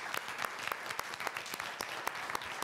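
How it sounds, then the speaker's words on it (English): Lecture audience clapping for the organisers of an event, a brisk, even patter of many hands at moderate distance, with no voices. "I think we should all clap for Joanne and Terrence for putting on such a great event."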